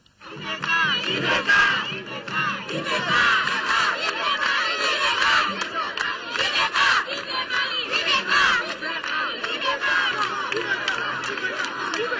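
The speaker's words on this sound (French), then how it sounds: "le chef de l'État s'est encore offert un véritable bain de foule" A large crowd welcoming the Malian president on a visit in Bandiagara cheers and shouts continuously, a dense, loud mass of voices with ululating cries rising and falling.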